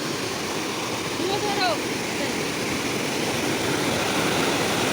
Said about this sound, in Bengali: ওই দেখো ফাইনালি চলে আসলাম। জলের কি স্রোত!